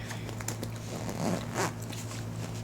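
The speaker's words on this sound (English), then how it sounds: "I'm trying to zip this up." Zipper on a piece of luggage or bag pulled closed in a few quick, rasping strokes, close and moderately loud with a steady low hum underneath.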